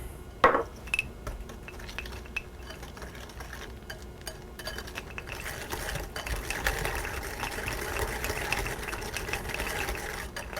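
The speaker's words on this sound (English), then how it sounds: "Whisk that together." A whisk rapidly beats sugar and cornstarch together in a bowl, faint and steady with light metallic ticking and clinking against the sides, one sharper knock near the start, no voices.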